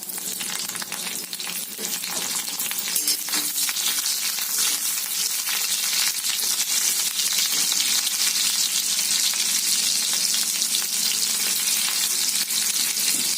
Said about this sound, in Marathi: आता ते चांगलं गरम झालंय. आता आपण हिरवी मिरची घालूयात.